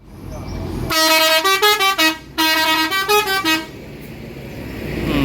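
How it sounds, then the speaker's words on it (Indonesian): An ANS bus departing a bus terminal sounds a loud musical multi-tone horn in two long melodic bursts close by, with a short pause between them and engine rumble and terminal ambience underneath. "Tepat jam 9:12 ini berangkat unit ANS pertama yang masuk ke dalam terminal ini"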